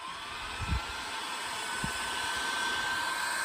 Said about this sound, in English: So I'm just going to give it a little heat for a couple seconds and see what it becomes when it's warm.